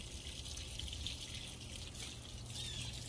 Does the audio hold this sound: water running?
yes